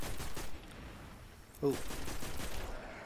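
Shots from the player's gun in the video game Destiny on PS4 sound as quick repeated bursts, fairly quiet, with a brief spoken exclamation partway through.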